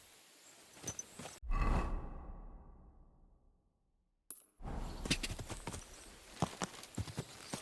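Hooves clop in an uneven rhythm at either end, broken by a loud low whoosh that slowly fades into near silence before the hoofbeats return.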